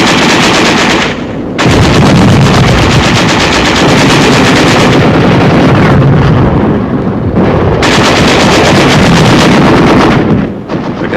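Wartime combat near a besieged city in 1945 as tanks and infantry advance: sustained, very loud bursts of machine gun fire mixed with heavy artillery shell blasts, broken by a few brief lulls, with no talking.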